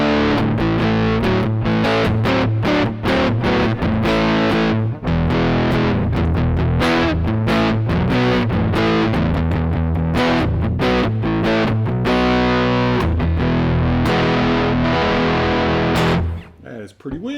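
An electric guitar plays through a cheap JOYO Fender-emulation pedal with the mids slightly scooped, feeding a Strymon Iridium. Loud, distorted chords and riffs ring out in a continuous rhythmic run that stops abruptly near the end.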